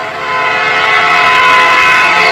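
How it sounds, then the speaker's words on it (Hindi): A cartoon train speeds along a railway track, a loud steady rumble with bright horn-like tones that build slightly as it approaches, with no voices. "ट्रेन की आवाज भी अब तेज हो जाती है"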